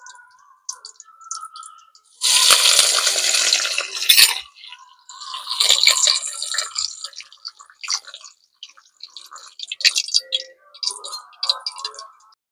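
Peanuts and curry leaves frying in hot oil, loud sizzling bursts and crackles that flare up, fade and return, with small pops and clicks between.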